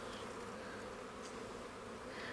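Honey bees on a hive frame make a dense, steady buzz, soft and continuous throughout, heard alone with no voices.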